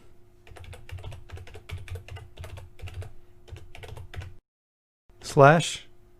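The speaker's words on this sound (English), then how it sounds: "Just type in your domain name." A computer keyboard being typed on to enter a web address, with quick steady clicking keystrokes close up for about four seconds, then a pause and a brief louder sound.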